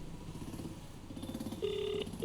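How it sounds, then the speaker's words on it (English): A phone number is punched in during the video game Let's Meat Adam 2 demo: faint, brief keypad tones chirp one after another over a low background hum. "With my fingers shaking, I dial the phone number off the back of the DVD case I found yesterday."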